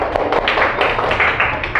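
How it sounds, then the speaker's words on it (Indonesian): Applause from a group of students in a classroom after a presentation, dense steady clapping filling the whole moment at close range. "Tepuk tangan dulu."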